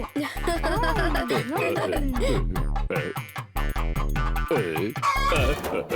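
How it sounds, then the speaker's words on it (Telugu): A cartoon chicken in a Telugu kids' cartoon clucks and squawks in quick, expressive bursts over a steady musical background, loud and close throughout. "అందువల్ల నేను ఇప్పుడు కోడిని పెంచబోతున్నాను."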